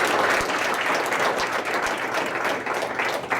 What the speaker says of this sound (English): And we definitely should be applauding him en route